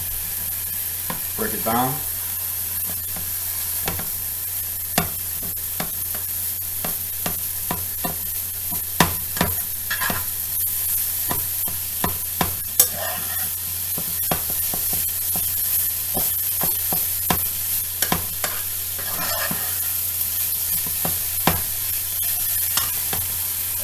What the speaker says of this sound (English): Now I'm going to go ahead and add my crumbles, one whole packet.